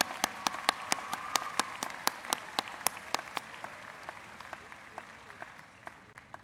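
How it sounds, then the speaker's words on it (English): Audience applause at a spring university commencement ceremony, a steady wash of many hands with individual sharp claps standing out, gradually thinning toward the end. "Wouldn't be one round of applause here for him."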